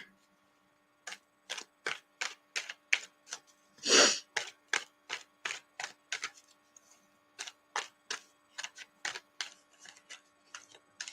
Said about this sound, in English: Usually you'll feel when you've shuffled enough.